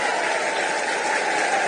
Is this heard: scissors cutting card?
no